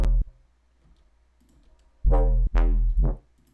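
Dry synth bass whops made in the Vital synthesizer with no reverb, a short hit followed by three punchy, loud sustained notes that cut off cleanly.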